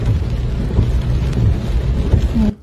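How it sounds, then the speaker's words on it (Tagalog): Heavy typhoon rain pours down with low rumbling thunder underneath, loud and continuous from close by before cutting off abruptly near the end. "pambihira itong bagyong to. Medyo, hindi lang medyo, malakas po talaga oh."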